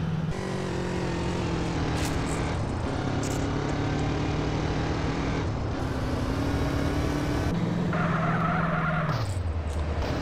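Steady engine drone of a motorbike pulling away in the video game GTA San Andreas, loud and continuous, with the pitch sliding and shifting as it accelerates. No voices.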